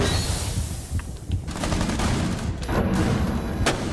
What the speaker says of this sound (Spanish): me dispara escopeta, señor!